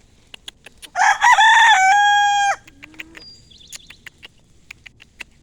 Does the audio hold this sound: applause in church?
no